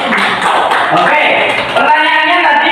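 Classroom audience clapping after a student's good question during a teaching session, a dense patter of hands filling the room while a voice carries over it.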